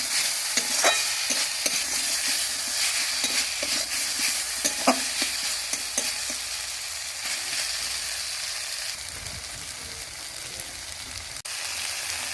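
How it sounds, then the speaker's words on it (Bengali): Spice paste sautéing in a pan as it is stirred, a continuous close sizzle with frequent light scraping strokes, moderately loud, no one speaking. "মশলাটা ভালোভাবে কষিয়ে দিয়েছি।"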